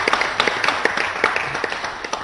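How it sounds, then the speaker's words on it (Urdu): A studio audience claps for a team on a PTV Independence Day special quiz show quarter-final, with dense, steady applause that stays loud and close throughout the short stretch. "تالیاں ہونی چاہیے ان کے لیے"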